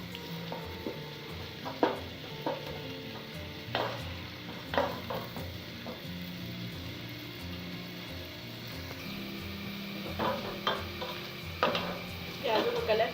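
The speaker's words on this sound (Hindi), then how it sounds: "प्याजों का कलर चेंज होना शुरू हो गया, थोड़ा सा और इसको फ्राई करेंगे।" Onions frying in oil in a home kitchen pan for an aloo chicken curry, a steady low sizzle broken by repeated scraping stirs and occasional utensil knocks, close and moderately quiet.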